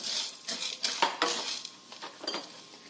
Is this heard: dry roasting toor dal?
yes